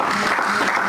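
A church congregation breaks into brief, loud applause, a dense burst of clapping from many hands filling the room for under a second.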